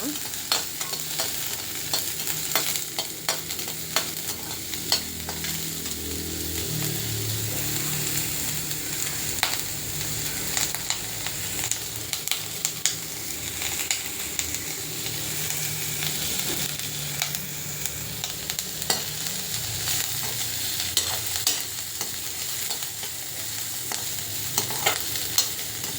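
Ginger garlic paste sautés in a pan with a continuous soft sizzle, punctuated by frequent spatula scrapes and clicks against the metal, close and moderately quiet throughout.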